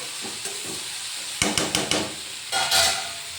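Chopped okra cooks in a pan with a steady sizzle and hiss, broken by a few sharp clicks and knocks of utensils against the pan.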